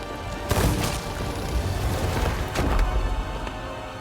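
A huge boom from the Ashen Lord's smash-down attack in a video game, a heavy explosive burst followed by rumbling debris and a second crashing impact a couple of seconds later.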